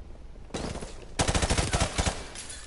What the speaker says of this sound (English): Let's use our actual gun.